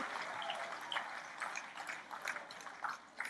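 A congregation at a church sermon clapping hands, faint and distant, in uneven bursts of claps.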